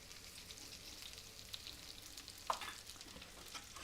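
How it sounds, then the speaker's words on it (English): Onion sizzling in hot sesame oil with a pinch of salt, a faint, steady frying hiss with one small clink midway. "when the oil's nice and hot, we're going to add the onion, followed by a generous pinch of salt"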